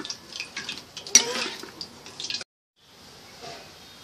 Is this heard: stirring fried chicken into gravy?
yes